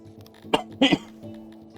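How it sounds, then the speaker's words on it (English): A person coughs close to the microphone: one short cough, then a quick double cough, with quiet room tone around them. "Sorry for the coughs."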